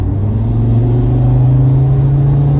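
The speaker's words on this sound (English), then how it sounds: "you can really hear the turbo spool up" A 2018 Audi RS3's turbocharged engine drones loudly and steadily as the turbo spools up under acceleration, with a brief faint high whistle partway through.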